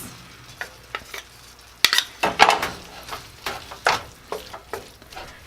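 Tomatoes and garlic cook in a pan, a low sizzle broken by repeated stirring scrapes and clinks of a utensil against the pan, close and without talking.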